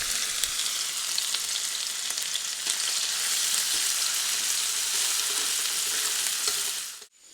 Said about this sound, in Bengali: তেলটা গরম হয়ে গেলে দিচ্ছি আদা আর রসুন কুচি।